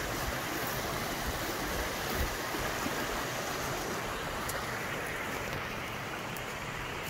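A creek flows beside an outdoor spot, a steady broadband rush of water that stays even and close throughout with no voices.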